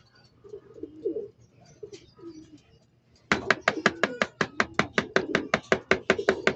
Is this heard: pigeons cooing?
yes